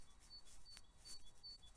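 Faint, high chirps from a small bird repeat several times in Scottish woodland, set against a soft outdoor background with no talking.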